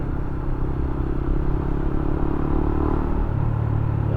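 Motorcycle riding along a road on a trip toward Tacloban City, a steady loud engine drone with road rumble throughout and a slight drop in pitch near the end, no talk.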